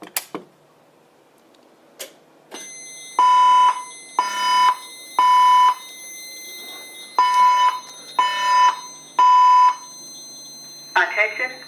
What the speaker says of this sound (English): The fire alarm system has been activated.